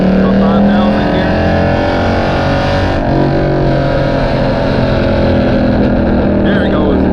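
Loud exhaust from a catless Dodge Challenger 5.7 with no tune, revved hard to around 5,000 RPM, roaring steadily with a brief dip and sharp pops and crackles, recorded close up.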